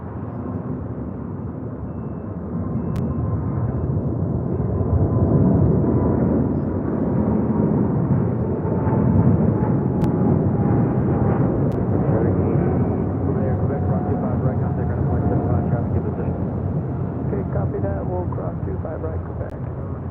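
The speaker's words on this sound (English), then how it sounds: "All right, we got that big Q. 777 freighter now rolling down at 25 right." A Boeing 777 freighter takes off on runway 25 right at LAX with a sustained roaring rumble that swells after a few seconds and stays loud and steady throughout, a faint rising whine woven through it.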